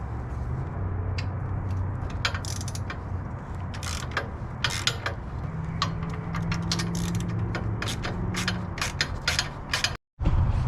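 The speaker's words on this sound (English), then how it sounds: "what I've just done, I loosened up this bolt, that bolt" Ratchet wrench loosening the skid plate bolts on a 2021 Honda Africa Twin motorcycle, a steady run of close mechanical clicking and creaking over a dense background, with a brief cut-out near the end.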